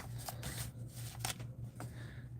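Several short crisp snips as scissors cut through paper at a crafting table, close and fairly quiet with brief pauses between cuts.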